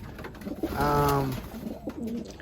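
A racing pigeon gives a single soft, drawn-out coo close by, alone and fairly quiet, with faint background noise after.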